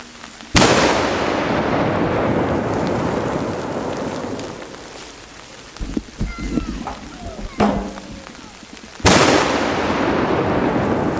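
Two loud ceremonial gunshot or mortar blasts ring out at a Slovenian village church festival in Kozjak, each with a long booming echo, while people talk between them.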